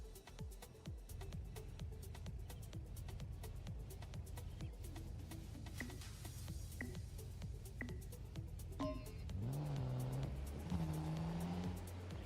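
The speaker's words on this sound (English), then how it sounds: "Okay, they're getting the cars for the racing." Racing cars in a video game rev and accelerate with a steady, fairly faint engine drone, broken by sharp clicks and a rising whine near the end.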